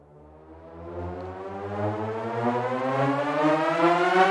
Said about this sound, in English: in this video I'm going to show you how I made this riser.